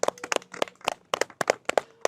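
A small audience claps after a meditation session: a few pairs of hands give sharp, distinct, irregular claps, close and fairly loud, with no voices.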